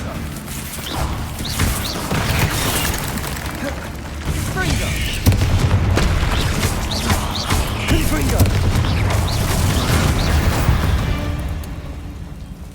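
Hogwarts Legacy combat on Xbox Series X with Confringo and Bombarda spells: a dense barrage of booming blasts, crashes and crackling impacts rumbling continuously, peaking in a heavier burst midway before tapering off, with some speech underneath.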